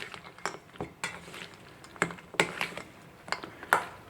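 Peanuts and cashews tossed in a bowl give scattered clicks and rattling knocks in loose bursts, close by and moderately loud, with no voices over them.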